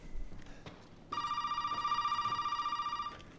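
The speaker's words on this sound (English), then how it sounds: "The phone will ring." An in-game telephone rings in Resident Evil 7: a single sustained electronic ring, bright and buzzy, starts after a brief quiet moment and holds steadily for about two seconds before cutting off.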